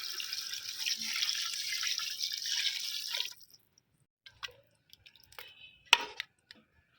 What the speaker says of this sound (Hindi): और इसमें 1 किलो जो है ना पानी डालते हैं।